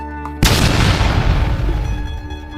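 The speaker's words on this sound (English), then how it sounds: "the cannon fires from the citadel, signaling the time for Iftar" Ceremonial Ramadan Iftar cannon fired from the Cairo citadel at sunset: a single sudden loud boom that rolls into a long, dense rumbling decay lasting a couple of seconds.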